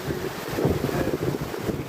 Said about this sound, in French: si vous pouvez entendre les vagues, écoute